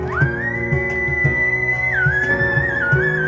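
A sustained whistle rides over a live music performance, a long high tone that holds and then wavers near the end above the band's steady rhythmic accompaniment.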